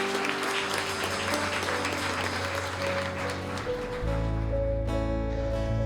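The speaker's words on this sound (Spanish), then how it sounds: "Un aplauso a su Dios" A church congregation applauds in praise of God, steady broadband clapping that fills the space, then gives way to a sustained low organ-like tone near the end.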